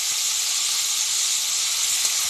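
Onion paste hits hot oil already tempered with dried red chilies and whole cumin, giving a loud, steady sizzle and hiss that holds evenly throughout, with no voices.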